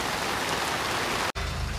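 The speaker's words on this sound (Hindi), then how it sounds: "देख सकते हैं बारिश फिर तेज़ हो गई, बढ़ गई बारिश।" Heavy rain pours steadily at a construction site during the monsoon, a dense, loud, continuous hiss of drops with a brief cut near the end.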